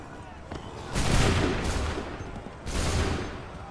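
Musket volleys from massed soldiers crack out in two loud, dense bursts, each trailing into a rolling roar, with shouted commands heard around them.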